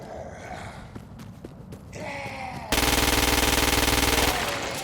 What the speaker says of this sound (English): The ordnance you now hold is a standard-issue agency assault rifle. Use it to kill the freak, without assisted targeting.